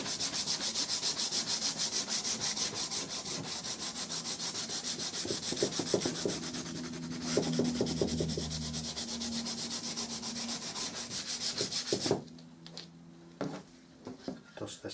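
Fine 180-grit sandpaper rubs over a wood-grain painted surface in fast, steady back-and-forth strokes, loud and close, then stops, leaving a few faint knocks and quieter handling sounds.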